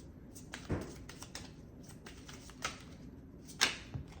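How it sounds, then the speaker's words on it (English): Soft, scattered taps and riffling clicks of tarot cards being shuffled by hand, with a few sharper snaps among quiet handling sounds. "that's a lot of cards. I think I'm gonna shuffle a little more."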